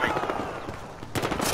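Gunfire in Battlefield Hardline, bursts of rapid shots with a sharp louder volley near the end, mixed with game noise and a talking voice.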